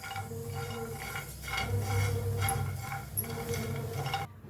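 Grated coconut being stirred while it roasts in a pan, with a spoon scraping and clinking against the metal in a steady, quiet rhythm.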